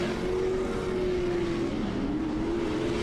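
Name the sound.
Pro-Lite race truck engine at full throttle on dirt track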